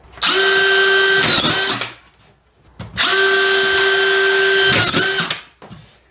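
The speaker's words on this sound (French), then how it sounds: "J'ai placé une vis au milieu et je vais en mettre une à chaque extrémité." Power drill driving screws through roof insulation beneath a roof with skylight windows, two sustained loud whirring bursts, each ending in a brief ratcheting catch, separated by a short pause.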